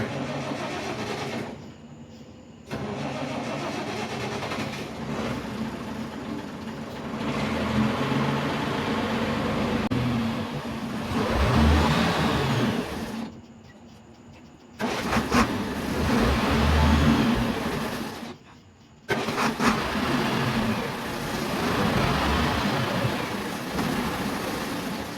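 A 1967 International Harvester 1206 tractor engine runs and revs loudly nearby, its rough mechanical roar swelling and easing, broken by a few abrupt cuts to near silence.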